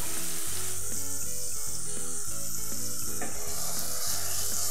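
Onion frying with salt in a pan for tomato soup gives a steady, loud sizzle with broadband crackle and a few tonal clinks from a utensil, heard alone without talk.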